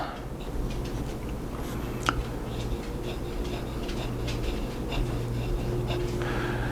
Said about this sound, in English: This is a nice medium pen, medium nib tip. Decently wet writer.